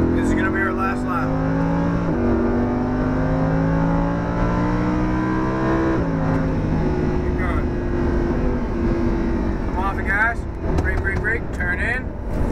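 Lamborghini lapping the Homestead-Miami race track, its engine droning loud and steady with pitch climbing and dropping through gear changes, under an instructor's continuous coaching voice.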